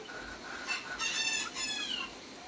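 Brahma chickens on a farm clucking and crowing, with a few harmonic crowing calls rising over steady background clucks, close and moderately loud.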